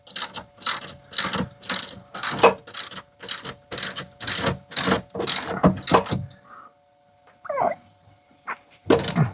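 A spanner tightening the bolts of a CTA swivel base under a single passenger seat in a Sprinter campervan, giving a run of rhythmic ratcheting clicks, close and steady, then a pause and a few faint clinks.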